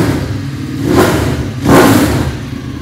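A Ducati Streetfighter 848 motorcycle revs up twice in quick succession, each throttle blip rising loudly over a rumbling idle.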